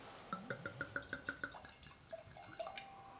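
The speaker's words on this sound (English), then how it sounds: "So yeah, I pour in for you." 2008 Tignanello red wine poured from the bottle into a glass, a rapid run of rhythmic glugging pulses followed by a thinner trickle, close and clear with no talking.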